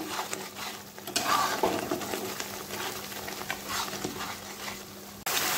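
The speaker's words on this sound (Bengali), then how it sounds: "মশলাটা সুন্দর করে কষাই নেব।" A spice masala with turmeric and salt is stir-fried in a pan, giving a soft, steady sizzle with intermittent scraping strokes of a spoon, close by but fairly quiet.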